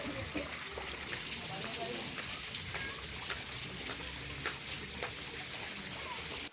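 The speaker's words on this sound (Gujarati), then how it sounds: "રાત્રે 3-4 વાગે વરસાદ આવી ગયો એટલે ઉપરથી ધીમે ધીમે પાણી નીચે પડે છે" After a night of monsoon rain at Pavagadh hill, rainwater drips slowly from above, making faint scattered drops and trickles against a soft, steady wet ambience.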